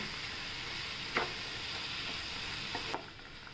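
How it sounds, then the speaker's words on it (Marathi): Potatoes and peas sautéing in a pan for a spinach, pea and potato sabzi, giving a steady soft sizzle with a few brief stirring scrapes and clinks, no talk. "बटाटे टाकूया, वाटाणे पण टाकूया, परतून घेऊया आपण."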